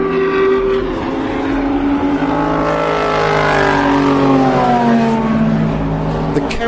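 Racing car engines roar continuously at high revs during a qualifying session, their pitches shifting as cars pass, loud and sustained with layered droning tones.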